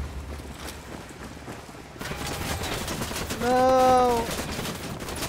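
Gunfire bursts from Ghost Recon Wildlands, an ambush battle, ring out over a busy background; a voice then shouts briefly over the shooting.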